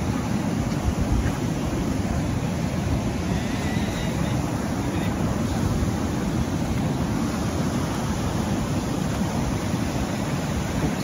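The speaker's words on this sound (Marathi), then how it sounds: "समुद्राच्या लाटा बघा." Sea waves roll in along the Konkan coast, a steady, loud wash of surf with wind that fills the whole stretch without a break.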